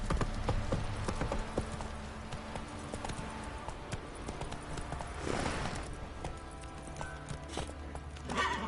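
Horse hooves galloping in The Witcher video game, a continuous fast clip-clop rhythm throughout under steady ambient game sound, moderately quiet and without speech.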